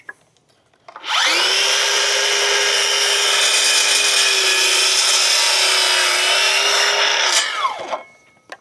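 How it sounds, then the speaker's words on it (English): A cordless miter saw slices through a piece of wood, spinning up to a loud, steady high-pitched whine as the blade cuts for about six seconds, then winding down and going quiet. "what if you want to run something like your cordless miter saw?"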